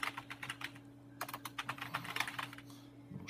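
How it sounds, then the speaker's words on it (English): Keys clatter on a Mac Performa 630 computer keyboard, a quick irregular run of crisp clicks, a short pause, then another burst of typing over a low steady machine hum. "We test the keyboard."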